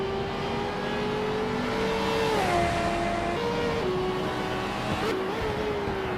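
Race car engines in a racing video game whine and rev continuously at close range, with pitch rising and dipping as cars shift and overtake, and no voices.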